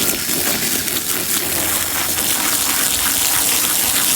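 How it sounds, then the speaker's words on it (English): Water pours and gushes steadily over a scrubbed rug being rinsed outdoors at a camping setup, a loud continuous splashing flow with no talk. "I had to scrub my rug. And I'm going to try to rinse it"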